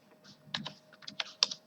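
Quick, light keystrokes clatter on a computer keyboard as an SQL insert query is typed, a short irregular burst of clicks heard up close with no talking.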